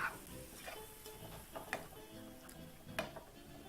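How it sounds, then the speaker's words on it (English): Beans and pasta are stirred in a pan at low heat, giving a faint, steady soft sizzle with a few light scraping ticks of a utensil against the pan. "Proceed to mix once more."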